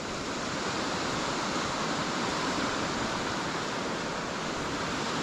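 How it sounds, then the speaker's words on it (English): Stream tumbling down a hillside in two drops into the River Wansbeck, a steady broadband rush of falling water, continuous and fairly loud with no voices. "you can see one of the streams that comes down the hill to meet the river over there, look. There's two drops."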